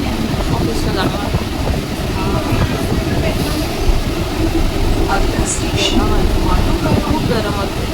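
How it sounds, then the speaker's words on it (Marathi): Inside a Mumbai local train from Charni Road toward Borivali, a steady rumbling and rattling of the carriage runs continuously at moderate loudness, with crowd chatter and voices mixed in throughout. "आता मी चन्नी रोडपासून ट्रेन पकडले बोरिवली"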